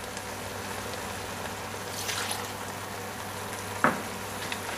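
Prawns cooking in a tomato sauce with white wine, bay leaf and basil in a pan give off a steady, even sizzle and bubble, with a single brief clatter near the end.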